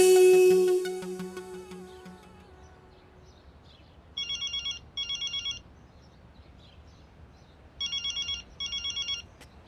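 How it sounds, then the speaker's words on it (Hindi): Telephone ringing indoors in a family home, two double electronic bursts repeating in a steady pattern after a brief loud musical sting fades, moderately loud over a quiet room. "देखिए फोन आ रहा है"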